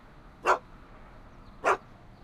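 Two short, sharp dog barks from Einstein the dog in Back to the Future: The Game, about a second apart, fairly close and clear over a faint steady background hum, with no talking.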